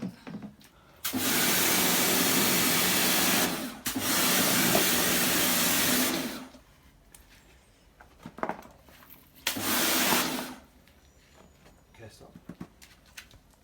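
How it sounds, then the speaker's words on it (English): High-pressure washer blasting a 50cc motocross bike in loud, steady hissing bursts, two long sprays followed by a shorter one after a pause, with quieter handling sounds between. "Okay, now we're high pressure cleaning."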